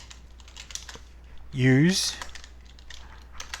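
Keys on a computer keyboard clicking in quick, irregular taps, close and fairly faint, with a short spoken word cutting in partway through.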